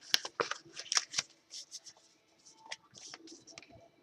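Paper greeting card being folded by hand, a quick run of crisp creases, rustles and sharp papery snaps at close range, moderately quiet with no talk.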